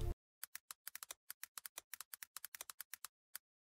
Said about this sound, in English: if you don't have a mechanical keyboard and you want some clicky noises, it's got that too.